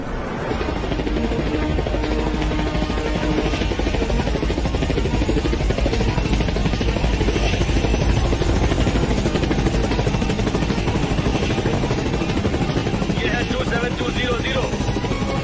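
A helicopter in a dubbed Hollywood action movie lifts off with a loud, continuous rotor roar that fills the scene and stays steady throughout, with speech mixed in.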